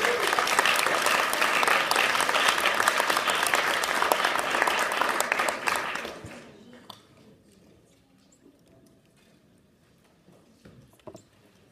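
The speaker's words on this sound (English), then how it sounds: "So let's give a great round of applause for Ms. Paula." Loud, dense applause for a debate moderator at a 2016 student presidential debate fills the first six seconds, then cuts off sharply into a quiet hall with faint scattered noises.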